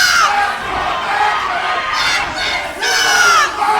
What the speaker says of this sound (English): And now this crowd here in Pompano is starting to get deafening.